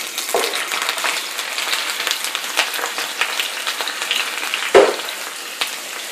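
Shrimp dropped into a hot skillet for fried rice, a dense continuous crackle and pop of frying oil with one sharper spatter near the end, close and fairly loud with no talking.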